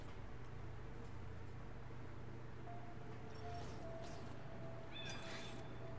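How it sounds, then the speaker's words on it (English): Faint, quiet meows from a cat in the video game Timelie sound over a low electronic hum and background noise, a few short cries spaced across several seconds. "the meowing backwards through time is pretty awesome."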